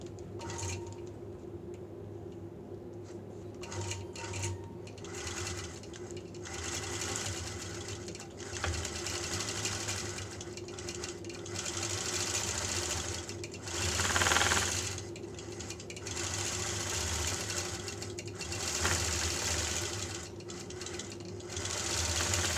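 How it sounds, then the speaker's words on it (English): A sewing machine runs steadily while stitching back-and-forth straight-line quilting to join two quilt-as-you-go pieces, a continuous close hum with brief pauses and speed changes throughout. "go ahead and put some straight line quilting to anchor these two pieces together"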